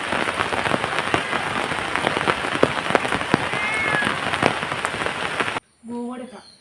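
Steady rain pours down outdoors on a village farm after a spell of hot sun, a dense continuous patter with sharper drop hits throughout, then cutting off abruptly near the end as a voice speaks briefly.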